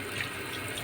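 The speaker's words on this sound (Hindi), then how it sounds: "अब इसमें हम पानी डालेंगे" Water poured onto meat in a pot for haleem korma, a continuous even rushing stream filling the whole short moment, close and moderately loud.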